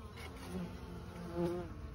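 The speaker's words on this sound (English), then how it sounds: "There's a big cluster of bees back in there" Honeybees from a colony being cut out buzz in a steady, close drone around comb and a large cluster, the hum swelling slightly as individual bees pass near.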